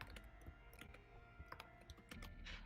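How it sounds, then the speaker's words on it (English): Quiet typing on a computer keyboard in the adventure game The Dig, irregular clusters of soft clicking keystrokes over a low background hum. "it's a keyboard, right"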